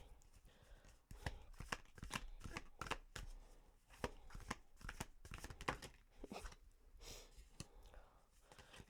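Tarot cards shuffled and drawn from a deck, giving a steady stream of close, soft riffling flicks and papery slaps in quick irregular bursts, with no voices.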